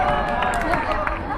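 Rhythmic clapping at an outdoor sports competition held for a parish day and Tusgo festival, steady hand claps over a busy crowd with voices talking throughout.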